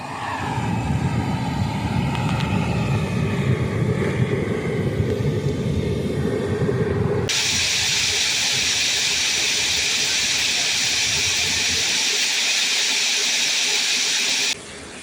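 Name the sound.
homemade junkyard turbojet engine igniting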